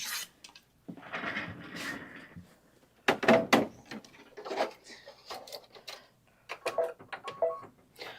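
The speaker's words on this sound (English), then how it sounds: "Now it's going to do a placement stitch for the linen." An embroidery machine sewing a placement stitch on linen fabric, a fast mechanical ticking and clacking in irregular bursts, close and moderately loud with short pauses between runs.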